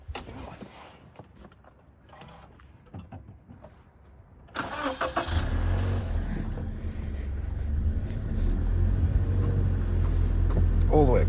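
A Toyota 86 engine cranks and catches about midway, then settles into a loud, steady idle that keeps running close by after quieter handling noises.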